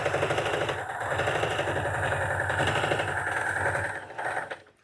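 Singer 301A sewing machine running at steady speed, a close, loud, even mechanical whirr and rapid stitching chatter that holds for about four seconds and then winds down and stops.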